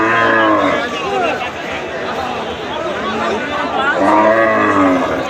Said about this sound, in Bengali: এর একটি ষাঁড় গরু দেখাচ্ছি